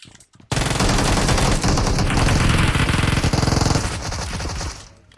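Sustained automatic gunfire in PUBG on the Erangel map, a loud, dense burst of rapid shots lasting several seconds before tapering off, with faint voices around it.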